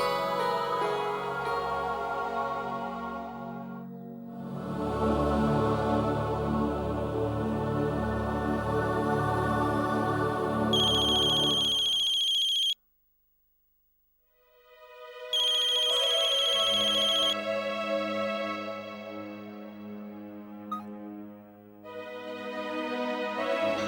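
A telephone ringtone plays loudly in repeated melodic bursts, cutting off abruptly into a short silence before ringing again.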